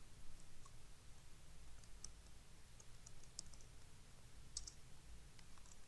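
Faint, scattered keyboard clicks from typing a job application in MS Word on a computer keyboard, irregular keystrokes over a low background hum with no talking.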